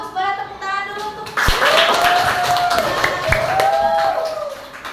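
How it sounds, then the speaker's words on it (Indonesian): Classroom applause from young pupils breaks out as a scattered patter of clapping, running under a teacher's continuous talking at close range. "boleh tepuk tangan dulu"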